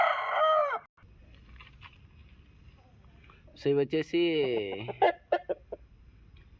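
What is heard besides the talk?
country chickens clucking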